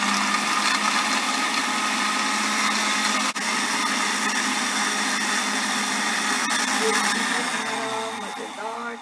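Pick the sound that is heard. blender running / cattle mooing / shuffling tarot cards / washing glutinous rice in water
blender running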